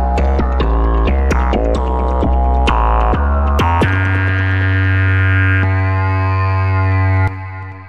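Self-oscillating Ripple feedback tone in Bitwig, played as a quick run of pitched, percussive notes, then a loud sustained buzzing drone that hums on before stopping abruptly.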